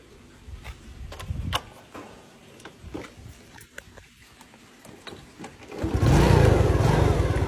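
A small motorcycle engine kicks over with the kick starter and settles into a steady, loud idle after a few seconds of clicks and rattles.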